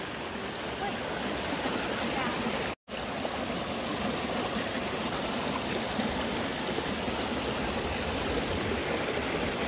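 A forest stream flows past its riverbank in a steady, close, broadband rush that continues unbroken except for one brief dropout.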